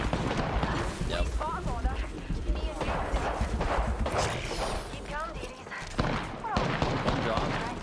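Rapid bursts of gunfire in an Apex Legends match, sharp cracks and automatic volleys repeating in uneven clusters, loud and close, with players talking over the shooting.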